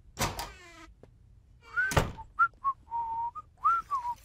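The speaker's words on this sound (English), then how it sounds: "You heard me whistling there" A cartoon character whistles a short, casual tune of several clear pitched notes, preceded by a couple of sliding, knocking thuds, close and isolated with no talking over it.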